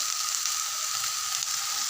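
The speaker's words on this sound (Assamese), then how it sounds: "শেৱালি ফুল ইয়াতে দি অকণমান ভালদৰে ভাজি ল'ম" Night jasmine (sheuli) flowers frying in hot oil in a pan for a fish dish, a brief, even, moderately quiet sizzle with no talking.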